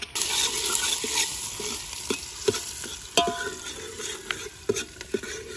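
Mutton dropped into a pot of onions browning in oil, a steady close sizzle with scattered stirring scrapes and clinks of a spoon against the pot.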